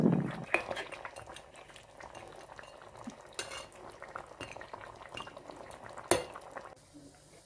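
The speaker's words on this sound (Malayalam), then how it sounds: "എല്ലാ ചിക്കനും ഇട്ടിട്ടുണ്ട്. ഇനി നമുക്ക് നന്നായിട്ടൊന്ന് ഇളക്കിയെടുക്കാം." Chicken stirred in a pan for biryani gives soft scraping and sizzling, with occasional utensil knocks against the pan and a low bubbling bed underneath, close and fairly quiet.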